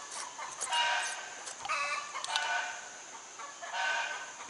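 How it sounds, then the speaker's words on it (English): Excited chickens clucking with a rooster crowing outdoors in the morning, several bursts of calls rising and falling over about four seconds at moderate distance, no talk. "Them chickens are excited again this morning."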